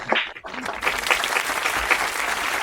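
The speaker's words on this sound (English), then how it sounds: "Let's give a round of applause" A round of applause from a small audience at a live comedy show, a burst of clapping close to the microphone that carries on steadily, with a few cheers and voices mixed in.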